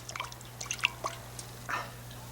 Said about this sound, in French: il y en a un petit peu qui coule dans le seau, goutte à goutte